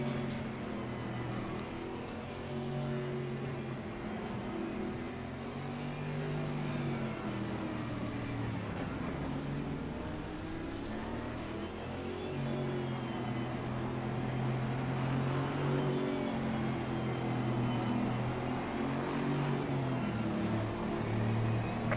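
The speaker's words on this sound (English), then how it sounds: "I do love the sound of these cars revving up in the morning" Steady engine roar of racing cars revving in a driving video game, rising and falling in pitch continuously for the whole stretch, loud and close, with no talking.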